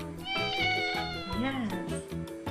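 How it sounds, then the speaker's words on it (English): A cat meows in a children's animal-sounds lesson, a short rising-and-falling cry set against a rhythmic musical backing. "And cat sound is meow."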